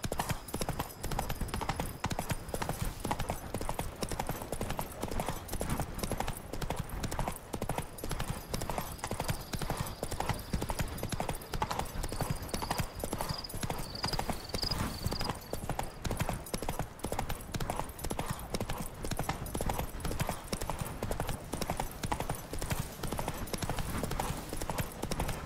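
Roach the horse galloping in The Witcher 3: Wild Hunt, with a continuous rapid clip-clop of hooves running for the whole stretch at a steady, even rhythm.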